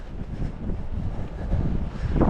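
Strong mountain wind, heard while fishing for wild trout, roars steadily and buffets the microphone as a dense, low rumble with no voices.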